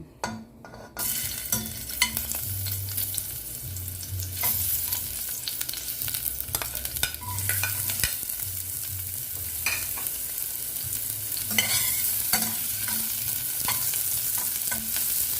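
Ginger, garlic and onion frying in a little oil in a pan, a steady close sizzle with repeated stirring clinks and scrapes throughout, no voices.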